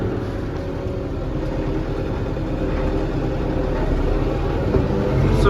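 A farm tractor rumbles steadily while pulling away in low range, second gear, before sowing soybeans on a field, a loud continuous engine drone that swells slightly toward the end.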